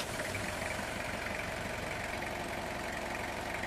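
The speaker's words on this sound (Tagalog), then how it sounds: "Start ko na itong makina mga boss." A Toyota Revo engine idles at a steady, even rumble, close and continuous with a faint knocking texture and no change in pace throughout.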